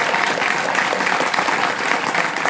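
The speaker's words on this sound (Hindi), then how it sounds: "तो आप सभी का जोरदार तालियां पुनः होना चाहिए" A crowd at a ceremony honouring a JPSC exam topper claps loudly and continuously, a dense, even wash of applause that holds steady throughout.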